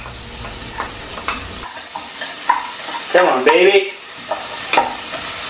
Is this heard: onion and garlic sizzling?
yes